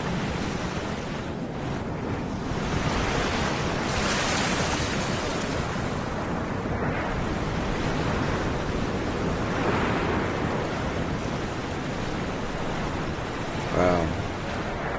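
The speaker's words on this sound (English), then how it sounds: "Look at the waves. Look at those waves." Ocean waves in the sailing video game Sailaway III roll and wash continuously, a loud, close surf with wind noise underneath and gentle swells in intensity.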